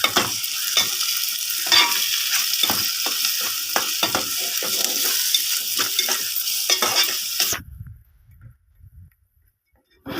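Goat blood fries in a pan with salt and is stirred. A dense, crackling sizzle comes through, broken by repeated scraping strokes from the spoon. Around 7.5 seconds the sizzle stops abruptly, leaving a few soft clatters.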